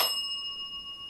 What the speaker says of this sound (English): for the dead bell, like Chris said, 2 dings for yes, 1 ding for no